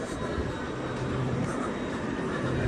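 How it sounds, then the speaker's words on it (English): Trains at Doncaster station give off a steady, unbroken rumble and hiss that fills the platform, with no voices heard over it. "we also got some new trains"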